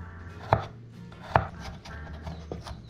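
Three garlic cloves chopped with a knife on a cutting board: two sharp, close chops stand out over a quiet room hum, followed by lighter, softer knife taps.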